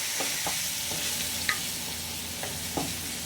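Turkey meat sizzling in a pan for turkey burger patties, a continuous close hiss with a few light stirring scrapes, no one talking.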